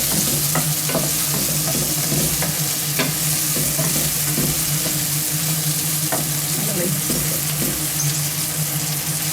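Chunks of stewing meat fry loudly in their own rendered fat, a dense continuous sizzle close by with occasional pops and the scrape of stirring, and no voices.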